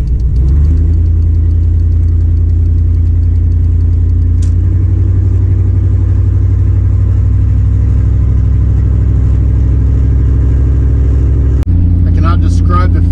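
A 1998 Chevrolet K1500 pickup with a swapped 5.3 V8 drives along with a steady, loud low rumble from its engine that runs continuously throughout, with a brief sharp transient near the end.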